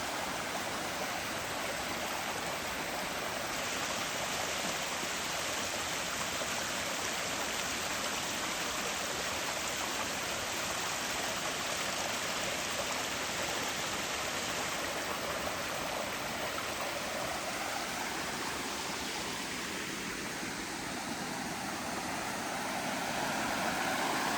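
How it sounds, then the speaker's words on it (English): A waterfall in Glen Howe Park, Wharncliffe Side, Sheffield, roars as a steady, dense broadband rush of falling water. It is close and continuous throughout, with no voices. "That's a lovely, lovely waterfall there."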